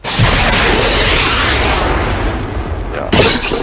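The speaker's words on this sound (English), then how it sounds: "Oh yeah, it's a giant explosion, that's the point." A giant explosion from a thunder spear in the Minecraft Attack on Titan mod booms loudly and fills the clip with a sustained rumbling roar, then gives way to a second burst near the end.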